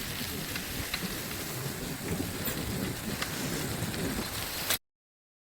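Steady rain falling outdoors, a dense, even hiss of drops with some wind noise, continuous and moderately loud before cutting off abruptly into silence.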